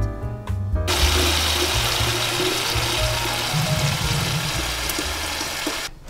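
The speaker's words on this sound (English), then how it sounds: "So let me fill this up with water." Tap water rushes hard into a jug in a kitchen, a loud steady splashing gush that starts abruptly and runs about five seconds before cutting off.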